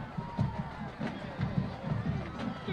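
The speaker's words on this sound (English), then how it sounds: "Good crowd on hand here for this one." A crowd murmurs in the stands at a Sharyland vs Sharyland Pioneer high school football game, a diffuse steady background hum beneath a commentator's voice.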